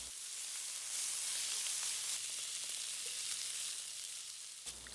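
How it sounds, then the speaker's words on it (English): Shrimp frying in hot oil in a clean wok for Shanghai rice cakes, a steady, bright sizzle holding evenly throughout with no talking. "In the hot clean wok, add some oil. Then add the shrimp in."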